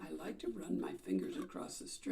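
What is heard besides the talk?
No everyday noise stands out behind the speech.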